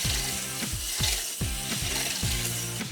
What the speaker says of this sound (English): and then we're going to whisk it all together